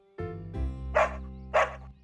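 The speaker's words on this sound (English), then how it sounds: "There goes Mrs. Connaught with her puppy Bonkers" A cartoon puppy barks twice in short, bright yaps over a sustained musical tone, close and clear with no talking.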